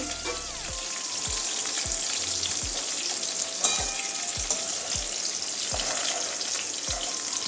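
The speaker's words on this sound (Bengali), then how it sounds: "ভেজে নেব হালকা লাল লাল করা পর্যন্ত" Loud, dense frying hiss of bitter gourd pieces in oil fills the clip, punctuated by regular soft thumps and faint scraping as pieces shift in the oil.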